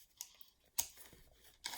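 Scissors snip a yarn tail for a paper plate weaving, giving a few faint, sharp, close clicks spaced apart in an otherwise quiet room.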